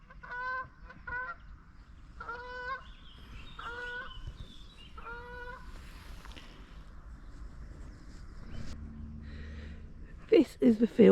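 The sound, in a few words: geese honking as they pass by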